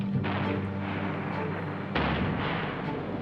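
Artillery fires in wartime combat, with two heavy booms, one near the start and a second about two seconds later. Each is followed by a lingering rumbling roll.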